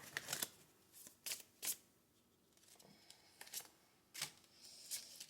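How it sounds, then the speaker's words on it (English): Oracle cards being shuffled by hand, quiet and close, with crisp riffling bursts in an uneven rhythm separated by brief pauses and no talking. "I am going to pull you some oracle cards before we do this read"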